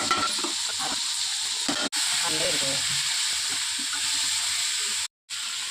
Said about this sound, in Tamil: வதங்கிக்கிட்டே இருக்குது. இங்கே வதங்கிட்டு ஆறணும் பார்க்கணும்.